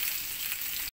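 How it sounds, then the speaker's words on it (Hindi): Grated ginger and green chillies sautéing in hot oil for pindi chole: a dense, even sizzle, close and steady, cut off abruptly after under a second. "जो अदरक डाला है कसा हुआ उसको हम सॉटे कर रहे हैं।"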